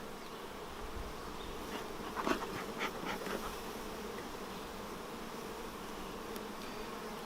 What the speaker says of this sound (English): And we're going to give them 3 frames of capped brood.